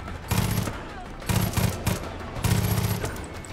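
Bursts of automatic gunfire from a gun in the video game Far Cry 5, three loud rapid volleys in quick succession, close and sharp.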